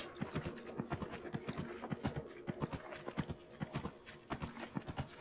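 Horse hooves clip-clopping at a steady riding pace in the video game Dragon Age: Inquisition, an even run of quick, close, moderately loud footfalls with no voice over them.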